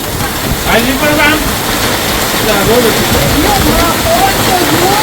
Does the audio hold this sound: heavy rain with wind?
yes